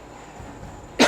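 A single short, sharp cough bursts out at the end after near silence.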